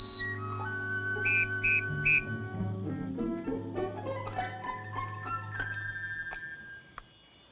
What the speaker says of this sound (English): Whistle made from wing bone of eagle.